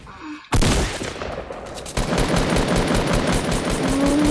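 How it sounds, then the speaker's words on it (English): Gunfire from Fortnite, with the player coming under sniper fire from several directions. A sudden loud burst breaks in, then rapid, continuous shots follow at close range, getting heavier after a short dip, with no talking. "I'm getting sniped from like 4 different angles right now"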